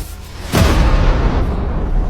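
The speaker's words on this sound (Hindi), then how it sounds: "गिरते ही विस्फोट से निकली ऊर्जा आज के 10 करोड़ परमाणु बम के बराबर थी।" Asteroid impact explosion in a dramatized dinosaur-extinction scene: a sudden deep boom hits midway and swells into a sustained, loud low rumble that slowly fades, preceded by a quieter roar.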